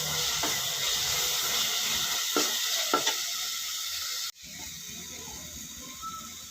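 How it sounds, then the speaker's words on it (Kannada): Ginger garlic paste sizzles and fries in a pan with browned onions for an egg gravy, giving a steady close hiss with a few soft stirring clicks and a brief dip partway through. "ಹಾಕ್ಕೊಂಡು ಅದು ಸ್ವಲ್ಪ ಫ್ರೈ ಮಾಡ್ಕೊಳ್ಳೋಣ"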